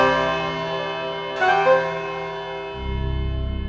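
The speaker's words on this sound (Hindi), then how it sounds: "5 सेकंड में 5 बजे की घंटी बजने वाली हो" A single resonant clock bell strikes the hour with a long ringing tone over a sustained musical background in a TV crime drama, followed by a low droning swell at the end.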